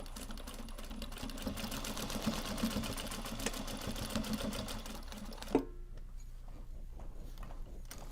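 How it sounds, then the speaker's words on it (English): A sewing machine stitches a travel sling in a steady, close mechanical whir that runs for about five and a half seconds, then stops with a soft clunk, leaving quiet room noise. "we're going to slide it under and sew it"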